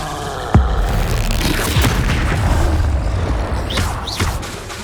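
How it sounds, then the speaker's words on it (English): A spell blast from the Hogwarts Legacy video game cast during combat opens with a sharp impact, followed by rumbling booms and whooshing magical effects over a steady low-frequency roar. "Expelliarmus!"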